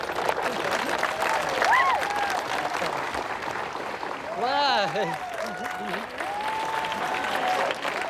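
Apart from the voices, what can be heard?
crowd applauding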